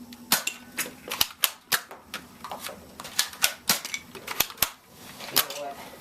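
Nerf guns firing in a toy battle, with a rapid irregular series of sharp clicking snaps and pops, some close and loud, others fainter, and quiet talk between the shots.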